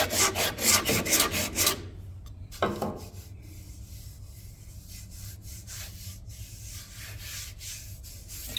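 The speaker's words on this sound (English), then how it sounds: "So we're sanding through 400 and we are going to use the sanding paste" Rapid back-and-forth strokes of 400-grit sandpaper rubbing an oak platter, loud at first, then a pause and softer, slower sanding strokes continuing.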